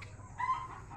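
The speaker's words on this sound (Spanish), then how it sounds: "Estas gallinas son ponedoras." Laying hens give a brief, fairly close cluck over a low background hum in a small poultry shed, a single short call rising and fading within a second.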